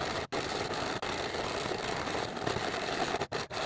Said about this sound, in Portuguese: Eu vou passar também na overlock.